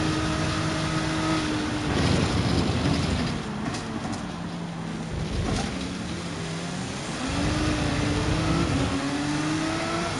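A Nissan GT-R in Gran Turismo 7 at the Red Bull Ring roars through continuous acceleration, its engine note climbing and dipping as it shifts and pulls out of corners, loud and steady with no talk over it.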